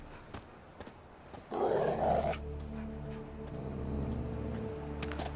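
Dogs growl in The Witcher 3 video game: a single rough, loud growl lasting under a second rises out of quiet ambience, then gives way to steady sustained musical tones.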